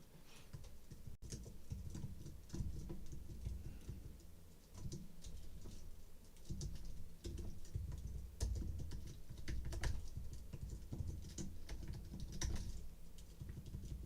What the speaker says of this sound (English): I just typed that out